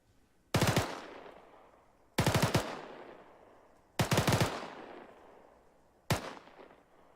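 An M249 machine gun fires four short bursts in a row, spaced about two seconds apart, each a sharp rattle that rings out and fades. The last burst is the shortest.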